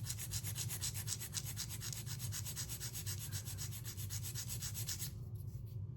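Steady rhythmic rasping of a file being drawn back and forth across fingernails to taper their shape, close and continuous, stopping just before the end.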